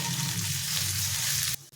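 Onion, garlic, ginger and green chilli paste sizzles steadily in a pan as it is stirred, a loud continuous frying hiss that cuts off abruptly near the end.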